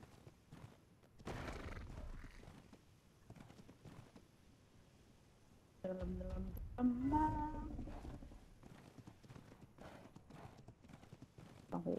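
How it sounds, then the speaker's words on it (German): Horse hooves clip-clop in a steady trot in the video game ARK: Survival Ascended, Scorched Earth map, fairly quiet, with a brief whinny and some soft thuds mixed in. "jetzt reite ich hier gerade"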